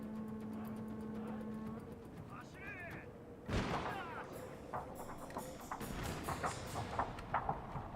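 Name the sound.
unit firing a volley in Shogun 2 video game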